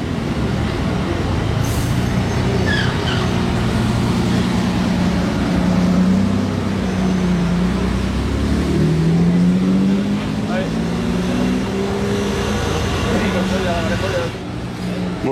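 A Gordon Murray T50 supercar engine roars through the streets of Monaco, a loud, sustained rising and falling wail of revs that fills the clip, heard up close amid surrounding city noise.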